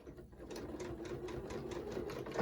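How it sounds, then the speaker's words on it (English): A sewing machine stitches quilt pieces together in a steady, rapid mechanical rhythm, close and continuous, with no talking. "as I sewed along"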